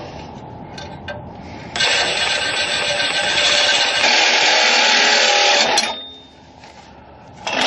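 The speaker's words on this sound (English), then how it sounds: "I've got my Sawzall here with a diabolo blade, and hopefully this will cut it quick." A Sawzall reciprocating saw fitted with a Diablo blade cuts on a Ford 5.4 liter engine, a loud buzzing rasp that rises sharply after a softer start, runs steady for several seconds, then winds down.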